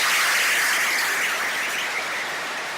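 Conference audience applauding, a loud dense hiss of many hands clapping together, steady and continuous for a few seconds, slightly easing toward the end.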